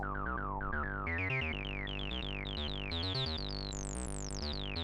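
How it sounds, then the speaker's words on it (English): A buzzy M303 synthesizer tone drones while its cutoff filter sweeps up and down, growing brighter and more screamy toward the end, played alone. "this cutoff knob right here sounds like this when I change it"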